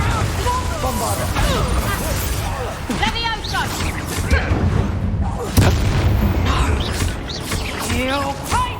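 A Bombarda spell explodes in the Hogwarts Legacy video game, one of several booming blasts and crashes amid busy combat effects, with characters shouting and talking over the fight.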